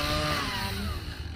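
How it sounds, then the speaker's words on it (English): Chainsaws running nearby in a garden area, a steady loud engine drone with harmonic whine held throughout, no speech. "They're playing with chainsaws while I'm making a video."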